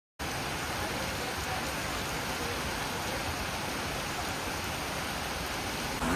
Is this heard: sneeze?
no